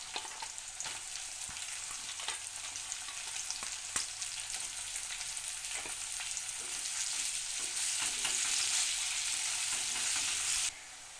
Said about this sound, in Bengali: এবার তেলের মধ্যে গরম মশলা দিয়ে দিচ্ছি, রসুন কুচি দিয়ে দিচ্ছি, পেঁয়াজগুলো দিয়ে ভালো করে ভেজে নেব